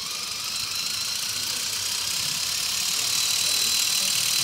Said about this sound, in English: So I will turn on the motor and show you how it works.